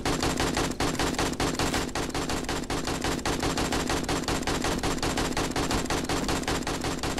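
Sustained rapid gunfire from the 7 Days to Die video game, loud and dense, with fast repeating shots firing almost without pause through the whole stretch.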